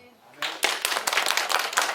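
A church congregation at a spring-semester opening gathering claps together, a burst of dense hand claps starting after a brief quiet moment and continuing steadily, close and lively.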